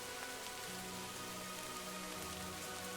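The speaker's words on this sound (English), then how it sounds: "The sound of rain is so soothing and calming." Steady, close rain patters on a surface at night, a dense uniform hiss with soft droplet detail and no voices.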